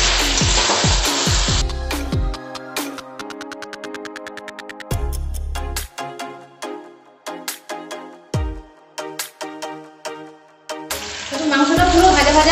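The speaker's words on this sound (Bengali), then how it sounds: "এবার আমি এতে আলুগুলো দিয়ে দেব। দিয়ে সমস্তটা ভালোভাবে ভাজি।" Chicken and potatoes fry in a pan for a Gondhoraj chicken dish. A loud sizzle opens and closes the stretch, with scattered clinks and stirring knocks in between.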